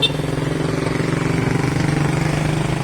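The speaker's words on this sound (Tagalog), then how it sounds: "Ayan, ang motor." Motorcycle on a street, a steady close engine drone with a fast pulsing rhythm that holds throughout without fading, no voices heard over it.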